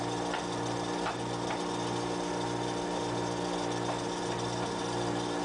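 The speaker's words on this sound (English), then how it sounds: "Now I'm going to my main carving tool here and just finishing the rounding on the ends." A power carving tool rounds the ends of a group of wooden boomerang sticks, giving a steady, close mechanical whir with a rhythmic low hum and faint ticking throughout, with no talking.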